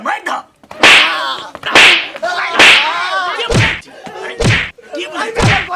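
A person is struck repeatedly with a shoe in a Maithili comedy skit: five or six sharp, loud smacks land at uneven intervals, mixed with shouting voices.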